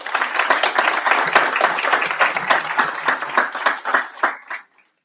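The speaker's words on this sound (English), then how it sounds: "let's give them a round of applause" An audience at a school board meeting applauds with dense, lively clapping for several seconds, thinning out and stopping abruptly near the end.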